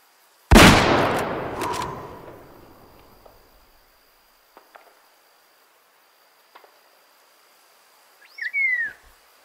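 A hunting rifle fires a single sharp, loud shot in the video game Way of the Hunter, the blast trailing off into faint outdoor ambience with insects and a brief bird call.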